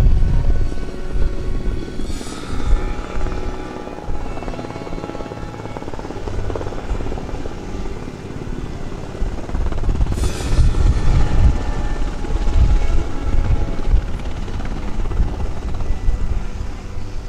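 UH-60 Black Hawk helicopters flying a military demonstration at the Rhode Island airshow at Quonset, a loud, steady rotor thump and turbine roar that holds throughout, swelling at moments as the aircraft pass.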